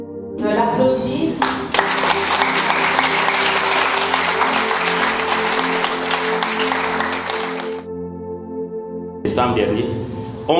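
A room full of people bursts into loud, dense applause at a coaching and NLP gathering, a sustained roar of clapping for about six seconds over a steady tonal hum, then stopping before a short second burst.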